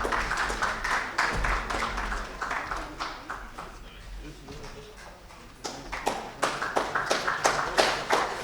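An audience at a CSR leadership awards ceremony in India applauds an award-winning team as they collect their award. Dense clapping fades briefly in the middle, then returns stronger toward the end.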